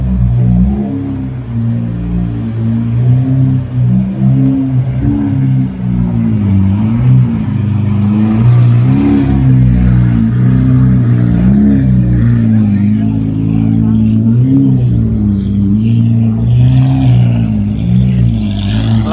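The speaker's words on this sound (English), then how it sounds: "Lamborghinis and a Ferrari." Lamborghini and Ferrari sports cars rev and rumble along an Amsterdam street, a loud, dense engine drone with rising and falling throttle swells that stays close throughout.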